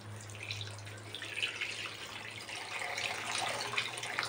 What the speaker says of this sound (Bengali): হাতটা ধুয়ে নেব এখানেই।